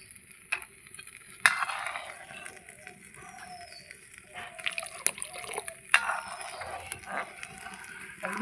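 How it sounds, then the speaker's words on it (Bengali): Vinegar is poured a little at a time into warm milk to curdle it for chhena, with soft liquid trickles, small splashes and stirring scrapes in a quiet kitchen. "ভিনিগারটা দিয়ে আমি ছানাটা কাটিয়ে নেব।"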